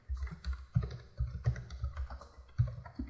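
Keys clatter on a computer keyboard as someone types text fields into mapping software, producing a quick irregular run of close, soft clicks and thumps.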